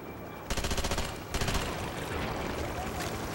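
A submachine gun in the video game Conduit 2 fires in two rapid, rattling automatic bursts, loud and close, followed by a lingering noisy wash.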